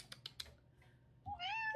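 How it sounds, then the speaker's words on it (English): A pet cat named Stormy gives a clear drawn-out meow close by in a quiet room, preceded by a few soft clicks and taps. "That's my cat, guys. This is one of my kitties."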